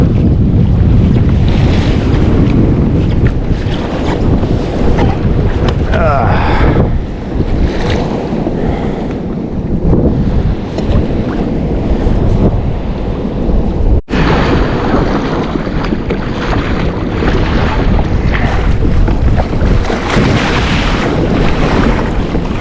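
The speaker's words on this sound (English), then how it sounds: "There's a wave over the bow, huh?" Ocean waves breaking over the bow of a fishing kayak off the Oregon coast, loud continuous surf and splashing water with heavy wind buffeting the microphone, steady throughout with no talk.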